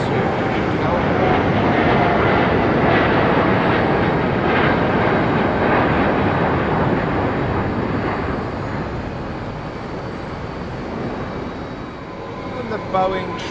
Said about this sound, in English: That is the WestJet 787-9 Dreamliner, and that is on its way to Calgary.